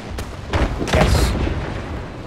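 A Panther II tank cannon firing in the War Thunder video game: one heavy booming shot, close and loud, with a rumbling tail that fades over about a second.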